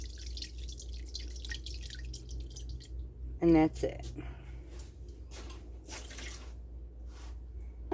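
Homemade Mediterranean paneer is rinsed under cool running tap water at a kitchen sink, giving a soft, steady trickle with a few short splashes. A person speaks briefly over it.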